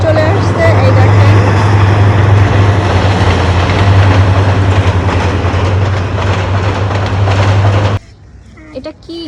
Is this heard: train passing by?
yes